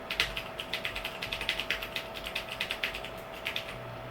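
Rapid keystrokes on a computer keyboard while setting up a server, a quick, even run of close, crisp clicks that lasts a few seconds over a faint steady hum.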